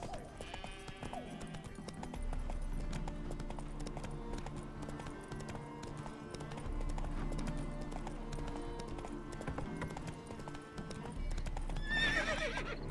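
Roach, the horse in the video game The Witcher 3, gallops with steady rhythmic clip-clop hoofbeats over continuous music, then lets out a loud whinny near the end.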